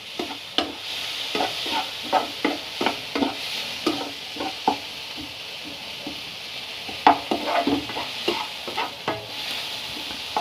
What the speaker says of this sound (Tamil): தக்காளி வெங்காயம் நல்லா வதங்குற வரையும் நம்ம வந்து இதை வந்து கிண்டிக்கிட்டே இருக்கலாம்